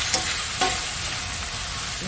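Thin-sliced beef brisket stir-fried with minced garlic and chopped green onion, a loud, steady close-up sizzle broken by a couple of quick stirring scrapes.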